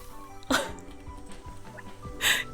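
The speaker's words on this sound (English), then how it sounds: "She's howling at my ringtone." Dog named Lottie howling at a phone ringtone indoors, with the ringtone's tones sounding and a couple of loud, close vocal bursts from the dog between them.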